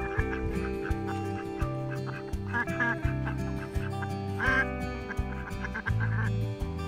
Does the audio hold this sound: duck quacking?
yes